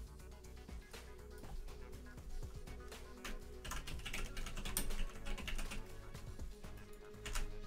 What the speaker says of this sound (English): And just press CTRL+V to copy paste.